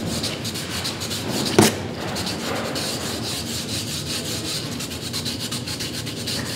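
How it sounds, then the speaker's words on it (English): A brush scrubs oil into a bare steel bar, making a steady, close, scratchy rubbing with a continuous rasping texture and one brief sharp knock near the start. "We're gonna work that in with the brush."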